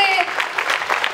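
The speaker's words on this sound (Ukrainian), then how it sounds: "дозвольте на цю сцену під ваші бурхливі оплески" Stormy audience applause at a festival awards ceremony, a short burst of dense clapping from a large crowd, even and continuous.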